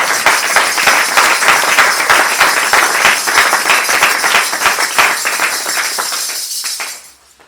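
Church congregation applauding during worship, dense rapid clapping from many hands filling the room, loud and close, holding steady before tapering off and stopping near the end.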